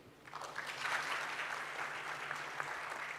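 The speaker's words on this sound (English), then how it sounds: "a round of applause to the 4 panelists here" An audience at a Thailand business conference applauds four panelists, a soft, steady patter of many hands that swells quickly and then holds evenly, heard from a distance at low volume.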